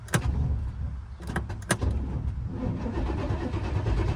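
A 1989 Pontiac Trans Am GTA, left unregistered for 17 years, cranks over steadily with the starter's rhythmic churning running throughout, punctuated by a few sharp clicks near the start; it doesn't catch.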